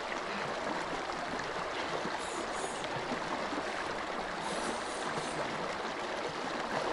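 A cold outdoor shower at a campsite in Mongolia runs in a steady, even hiss of falling water, close and uninterrupted, with no voices.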